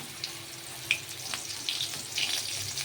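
Mango pieces and panch phoron five-spice sizzling in hot oil for a Bengali Aam Rui, a low steady fry with scattered crackles and small pops, close by and without talk.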